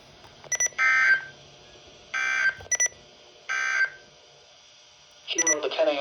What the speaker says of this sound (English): the National Weather Service has just activated the public warning alarm tone in a test of the